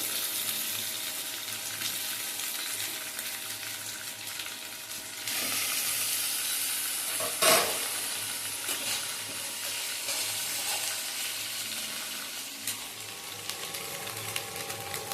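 Chopped green beans fry in a pan over a medium-high flame, giving a steady, loud sizzle throughout with a brief clatter partway through.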